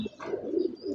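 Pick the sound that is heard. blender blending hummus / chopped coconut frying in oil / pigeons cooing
pigeons cooing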